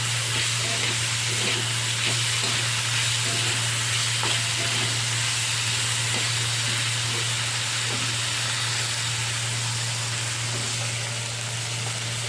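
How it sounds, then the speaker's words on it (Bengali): Fish and green chillies fry in a pan, giving a dense, constant close sizzle with small crackles and a steady low hum underneath, with no one talking. "এবার মাছটা ভাজা হয়ে গেছে"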